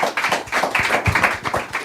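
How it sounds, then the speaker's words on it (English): Scattered hand clapping from a small group, a steady patter of claps with no one speaking. "So a round of applause here."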